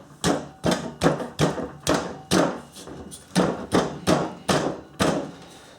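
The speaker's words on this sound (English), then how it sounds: "Sometimes you might have to get a soft hammer just to gently persuade things a little bit." A soft hammer knocks a part into place on a Ridgid AC9945 MSUV stand, with about a dozen firm, close thuds in an uneven rhythm, each with a short decay and no talking.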